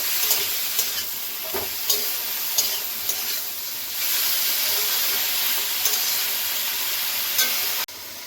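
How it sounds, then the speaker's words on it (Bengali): Turmeric, vegetable stalks and potatoes fry in a pan with a steady broadband sizzle, broken by scraping stirs at intervals and a louder burst midway, then cutting off abruptly at the end. "হলুদ, ডাঁটা আর আলু কিছুক্ষণ ভেজে নেব"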